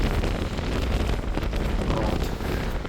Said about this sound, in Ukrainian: Тепленький вітерець. Ну, вітерець, гарний вітер.